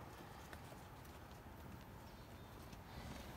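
Horses shuffling and stepping in a barn at feeding time while grain is handed out, a steady dense clatter of hoof clops on a hard floor close by, with no talking.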